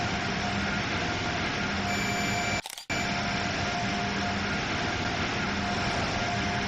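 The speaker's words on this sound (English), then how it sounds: "This train at speed sounds great." A train running at speed in the Train Sim World 3 game gives a steady, loud broadband rumble with a faint whine, broken by a sharp split-second dropout midway before the roar resumes.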